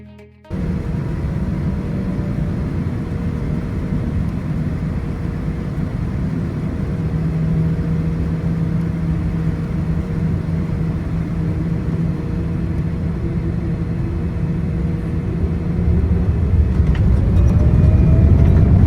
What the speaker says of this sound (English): so you can enjoy this fantastic takeoff as we depart Philadelphia